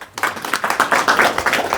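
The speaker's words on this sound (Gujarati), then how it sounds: "તાળીઓના નાદથી વધાવો." An audience at a farmers' quiz programme claps in loud, rhythmic bursts of applause that run steadily throughout, without any talking.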